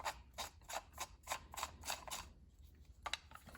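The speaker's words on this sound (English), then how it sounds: "if you open up this new one by undoing this ring here" A ring on a sprinkler valve is unscrewed by hand, making a rapid series of close ratcheting clicks and creaks in a steady rhythm, then a brief pause before a few more clicks.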